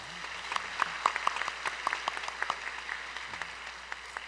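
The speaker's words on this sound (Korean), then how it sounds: "축하하겠습니다. 박수." Scattered applause from a church congregation welcoming first-time visitors during a Sunday service, sparse individual claps over a soft room hum, moderately distant and fairly quiet.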